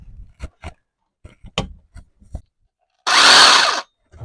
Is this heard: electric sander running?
yes